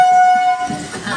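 Canning local passenger train running, with a steady horn tone sounding near the start over the close rumble of the moving carriages, then continuing as a rolling, rattling rail noise.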